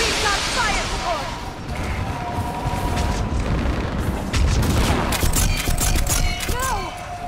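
Combat in the Mass Effect 3 video game, with dense rattling gunfire and booming fire support under shouted voices, getting louder and heavier in the second half.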